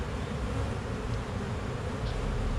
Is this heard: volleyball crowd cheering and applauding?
no